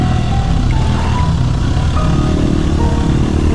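Husqvarna motorcycle engine roaring steadily at close range, a continuous loud, rough drone with low rumble and no talk over it.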